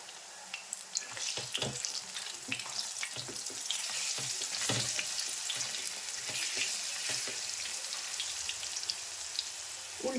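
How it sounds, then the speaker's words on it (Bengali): Chana dal for ladoo frying in hot oil while the pieces are turned one by one, a steady close sizzle broken by scraping and stirring clicks throughout. "ভেজে নিচ্ছি এইভাবে এক এক করে পাল্টে দিচ্ছি"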